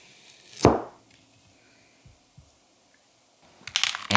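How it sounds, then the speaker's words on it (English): A sharp knife strike on a board, a couple of soft taps, then a quick burst of rough chopping of carrots with a Japanese kiritsuke knife at the end. "I did some rough chopping on carrots"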